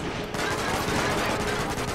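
Continuous gunfire in 007 Quantum of Solace on a ship's deck, a dense, loud, sustained volley of rapid shots filling the whole moment.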